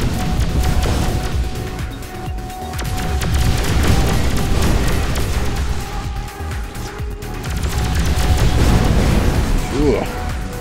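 Missiles explode against metal-walled corridors in the six-degrees-of-freedom shooter Overload, a dense, continuous barrage of booms and bursts layered over constant game noise, with a player talking over it throughout.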